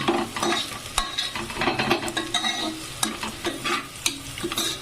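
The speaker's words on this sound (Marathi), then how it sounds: "कांदे ब्राऊन होईपर्यंत हलवून घ्यायचे कांदा ब्राऊन होतोय" Onions browning in hot oil for chicken biryani are stirred steadily, busy close sizzling with repeated spoon scrapes and clinks against the pot, no voices.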